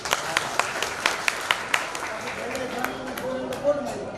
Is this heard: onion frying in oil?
no